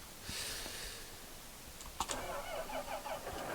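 A tractor engine cranks and starts in the farming game Farming Simulator 2015, a sharp starter click and catch midway, then a low running rumble over steady background hum.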